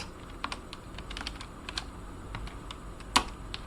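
Someone types a Linux command on a computer keyboard, quick light clicky keystrokes in an irregular rhythm with one sharper key hit near the end, fairly quiet and close, with no talking.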